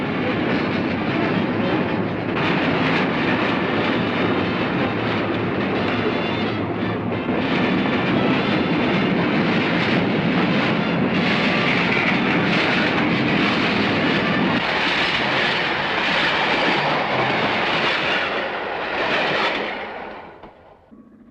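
The tea and sugar train, a desert supply train carrying Father Christmas, pulls away from an outback township with a loud, steady rumble of locomotive and rolling wagons, sustained throughout before fading at the end.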